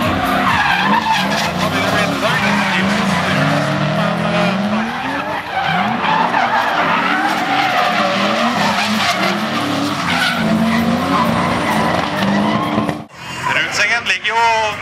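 A Toyota Supra drift car skids sideways through a corner at a Norwegian drift series event, its tyres screeching over a loud, sustained revving engine, close and dominant until a sharp drop near the end, with commentary running underneath.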